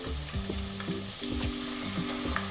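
Tomato puree hitting a hot pan, a steady close sizzle and frying hiss with soft stirring scrapes and occasional pops throughout.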